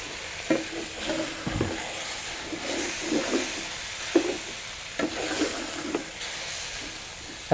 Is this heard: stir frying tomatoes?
yes